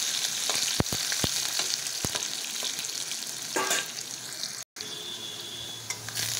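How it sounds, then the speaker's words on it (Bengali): Steady crackling sizzle of long-cut potato pieces frying in hot oil, continuous and close, with a few sharp pops and a brief dropout near the end. "এবার এই তেলেই দিয়ে দেবো আলুগুলো"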